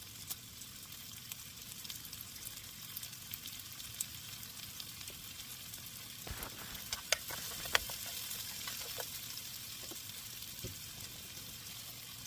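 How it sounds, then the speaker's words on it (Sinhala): Onions frying in a pan for a Sri Lankan fish curry give a steady, quiet sizzle with soft crackles, a few sharper pops and clicks of stirring partway through, and no voices. "ඒකටම ලූණුත් එකතු කරගෙන විනාඩියක් විතර කලවම් කරගෙන හොඳට බැද ගන්න ඕන."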